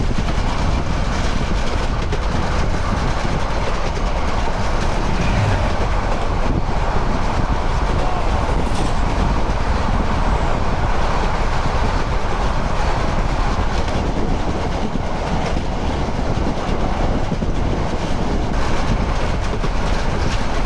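The Chattala Express runs loud and close as it pulls into Comilla railway station, a continuous dense roar of wheels and carriages with steady rail clatter and no pauses.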